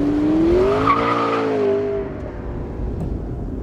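A McLaren 650S Spider sheds speed under heavy braking, the engine note falling in a descending whine with a brief tire squeal, loud and close, then settling into a quieter rumble.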